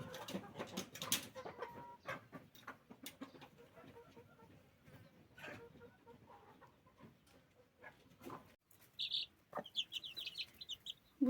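A brooding hen with her freshly hatched chicks gives soft, scattered clucks close by, with some faint chick peeps near the end and quiet background shuffling.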